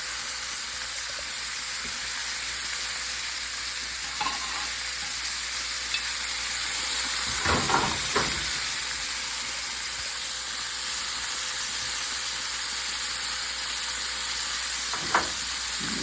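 Sous vide chicken wings fry and brown in hot oil at 335 degrees with a long, steady sizzle, joined by a few sharp thumps and clatters, most notably a cluster in the middle and one near the end.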